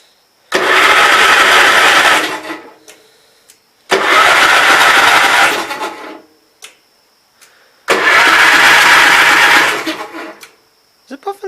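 A Gravely Pro 12 engine's starter cranks loudly in three separate bursts of about two seconds each. The engine never catches, and there are pauses between attempts.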